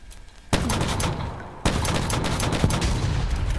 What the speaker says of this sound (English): Exploding my car, boys. I heard the explosion.